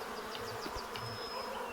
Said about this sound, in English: Smoke these bees,